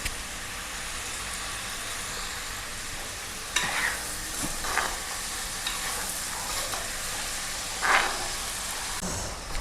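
Onion, tomato and curry leaves frying in a pan for a Kerala-style egg and fish curry: a steady close sizzle runs throughout, with a few louder scraping stirs of a spoon.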